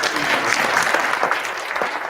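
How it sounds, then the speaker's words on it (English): Audience at a Young Entrepreneurs Club town hall applauding the event teams, a steady, even burst of clapping throughout. "give a round of applause for all these wonderful teams"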